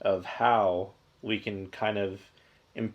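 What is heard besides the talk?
No everyday noise stands out behind the speech.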